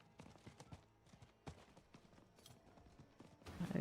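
Horses clip-clop in Diablo IV, irregular hoof knocks mixed with game ambience, growing louder with a burst of activity at the end; no talk.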